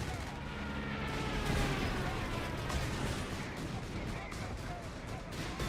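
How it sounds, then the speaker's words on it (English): A walking Stuka rocket barrage from a Company of Heroes 3 2v2 battle pounds the ground in a dense, continuous roar of overlapping blasts and rumbling impacts, loud throughout, with a voice talking over it. "another walking Stuka barrage"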